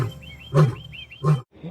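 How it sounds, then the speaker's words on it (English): A cougar at a big cat rescue sanctuary gives two short, loud growling calls a moment apart, with chirping birds in the background and no voices. "She's a cougar"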